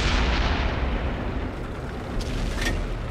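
A tank cannon firing in the video game World of Tanks, heard as a loud, deep boom with a long rumbling decay that fills the whole stretch, no voices over it.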